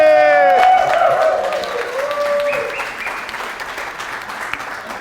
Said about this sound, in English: Let's give Ann a round of applause.